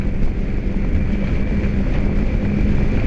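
A Kawasaki Ninja 250 motorcycle riding downhill: steady, loud rushing wind and road roar with a low engine drone underneath, no distinct gear changes or revs.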